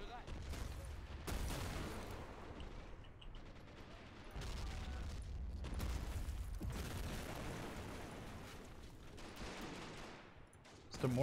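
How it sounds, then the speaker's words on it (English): Mortar fire in the video game Men of War: Assault Squad 2: a run of muffled, fairly distant booms and bursts of gunfire spread across a quiet, rumbling battlefield, with a louder hit at the very end. "It's the mortars that I can't really do anything about."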